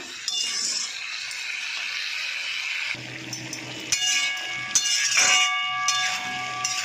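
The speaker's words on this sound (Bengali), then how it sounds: "এবার আমি একটু ঢেকে দেবো।" Lid placed over a cooking pot of greens with hilsa fish heads, a metallic clink and clatter midway amid ongoing sizzling hiss, followed by a ringing metallic tone as the lid settles.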